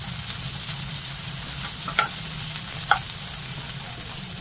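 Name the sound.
sautéing onion, tomato, garlic and ginger in a pan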